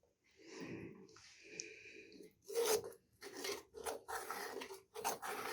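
A spoon scraping and stirring creamy methi malai matar curry in a pan, close, quiet rasping strokes in irregular bursts with pauses between them.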